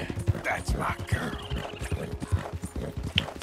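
A horse in Red Dead Redemption 2 gallops along at full speed, its hooves beating a steady rapid rhythm while a voice talks softly over it.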